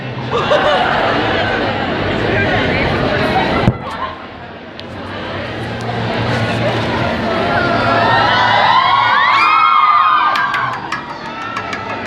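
An excited crowd shouts and cheers loudly, with shrill whoops and a brief sharp burst partway through, then rising high-pitched screams near the end.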